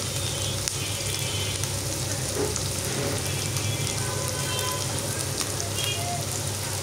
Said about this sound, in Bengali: রসুন একটু ভেজে নিচ্ছি।